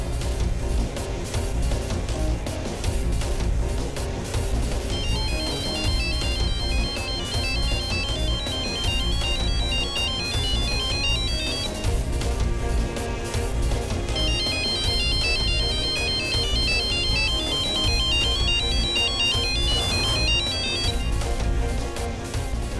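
A mobile phone ringtone plays in a room, a bright repeating melodic pattern in two long bursts over a dense background of music or drama score.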